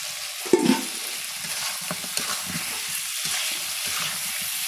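Duck meat fries with spices in a pan, a close sizzle broken by a sharp utensil clatter early on and then light scraping stirs, with no talking.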